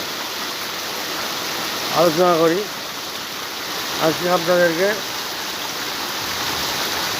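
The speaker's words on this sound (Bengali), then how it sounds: "বৃষ্টির ভিডিও বৃষ্টি পড়ছে" Steady, dense rain hiss fills the whole clip, with someone speaking briefly over it twice, during a downpour in Chapra, Nadia.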